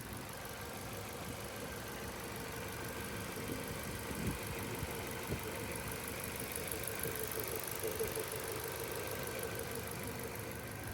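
A Volvo C30 1.6 R-Design with around 100,000 miles idles steadily, a continuous even engine hum with a light mechanical ticking, heard up close with no talking.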